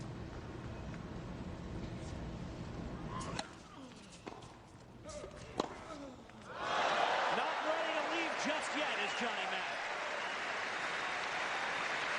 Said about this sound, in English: The crowd cheering for both men.